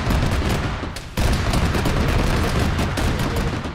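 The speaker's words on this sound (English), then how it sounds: "there's something shooting down that road" Gunfire in the video game Arma 3 crackles in a dense, continuous barrage, loud and close, with a short lull before the shooting resumes even more heavily.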